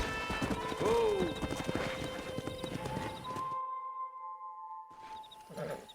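A horse's hooves clop rapidly in Red Dead Redemption, with a clear whinny near the start, then the gallop stops, followed by a soft ringing tone and a few more hoof sounds.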